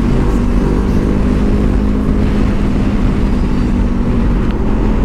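Steady loud engine drone from a motorcycle on a long ride, continuous rumble with road and wind noise throughout, no voices.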